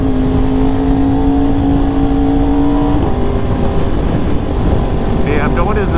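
A BMW X3 SUV accelerates on a Houston road, recorded from a passing motorcycle, its engine drone rising through heavy, constant wind roar close to the microphone.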